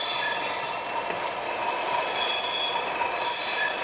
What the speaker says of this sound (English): I hope you've enjoyed seeing these locomotives run